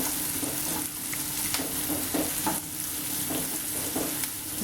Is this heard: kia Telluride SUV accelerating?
no